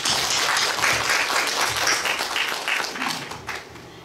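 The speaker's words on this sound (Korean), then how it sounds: "네, 큰 박수 부탁드립니다." Audience at a Korean art-song sing-along concert breaks into loud, dense clapping, a close crowd of hands rattling steadily for a few seconds and easing slightly toward the end.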